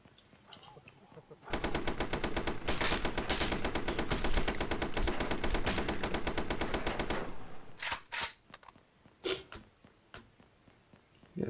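Rapid automatic gunfire in the video game Eliminator Kaede, fired while the character rolls, rattles in one long sustained burst for about six seconds, then a few short scattered shots follow.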